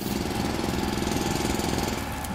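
Drills boring out terrain in the video game Foundry: a dense, continuous mechanical rattle and grinding hum, loud and steady throughout with no pauses and no voices.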